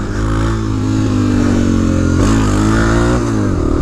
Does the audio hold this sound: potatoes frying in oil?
no